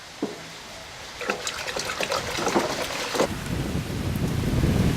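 Mustard being stirred vigorously into water for a small worm-composting setup makes a sloshing, splashing swirl that starts with a few knocks and builds into continuous churning liquid noise up close.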